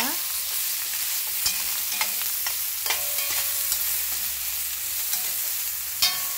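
Chopped onion sautéing in a pan for eggplant with soy sauce and lemon, a steady close sizzle broken by sharp scrapes and clacks of a utensil stirring, with no talking.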